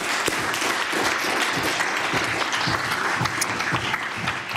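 Members of the House of Assembly applaud visitors in the chamber, a close, dense patter of many hands with a few sharper individual claps standing out, continuing evenly to the end.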